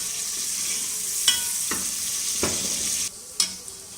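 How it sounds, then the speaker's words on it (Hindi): Onions browning in half a cup of oil in a pan for beef nihari, a steady soft sizzle with a few sharp stirring scrapes, faint and close, no talking. "और ये जो प्याज थी इसको हल्का सा हम ब्राउन करेंगे।"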